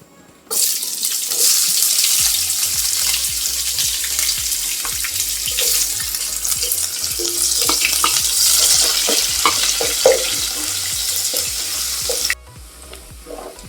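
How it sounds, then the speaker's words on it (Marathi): Sliced onion dropped into hot oil with already-toasted spices and asafoetida for an egg biryani, giving a loud, continuous sizzle with scattered stirring clicks, then cutting off abruptly near the end. "आता मी हा स्लाइस केलेला कांदा घालते"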